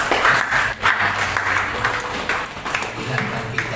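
A church congregation claps together during a worship service, a dense, steady wash of applause heard close up for a few seconds.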